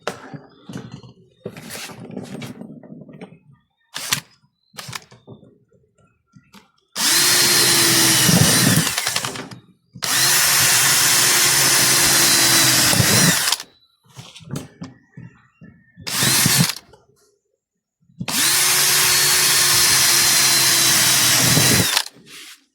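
A power drill bores through a fan guard holder, with three long, loud bursts of whining motor that rise in pitch at the start, separated by short clicks and handling noises, plus one brief burst.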